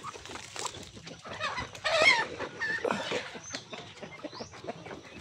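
Many pet chickens on an island farm clucking and calling in a dense, overlapping chorus, with some louder nearby bursts and occasional voices in the background.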